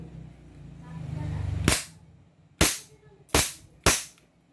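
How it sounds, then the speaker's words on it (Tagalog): Four sharp shots from a Glock 27 airsoft pistol, close and loud, coming at uneven intervals after a short rising mechanical whir. "Mga ka-airsoft, Glock 27. Unit po ng ating ka-airsoft, Jasmine Honrades. Firing!"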